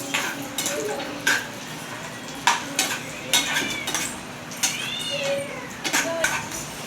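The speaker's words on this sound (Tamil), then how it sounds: "முந்திரி வறுத்துருச்சு." Halved cashews fry in ghee while a spoon stirs and scrapes the pan, producing a soft steady sizzle broken by repeated clinks, in a home kitchen making egg halwa.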